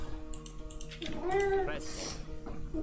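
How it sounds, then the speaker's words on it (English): A pet cat meows several times close to the microphone, the drawn-out calls rising and falling over background game commentary and in-game sounds. "And that is my cat."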